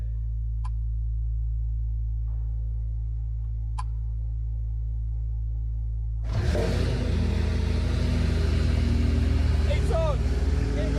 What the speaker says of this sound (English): We're gonna get to hear the car, and it was the start-stop button.